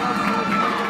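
A gym crowd cheers in a continuous, dense roar of many voices for about a second, loud and close, with no distinct words.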